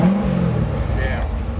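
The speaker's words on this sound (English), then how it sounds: "Now listen, it opened the exhaust." A sports car at a cars-and-coffee meet revs hard in sport mode with its exhaust valves open, a loud, close, rising engine roar with a brief higher whine partway through.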